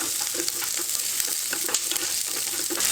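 Garlic and onion sauté in hot oil in a pan for a chutney, a close, continuous crackling sizzle with light stirring scrapes throughout.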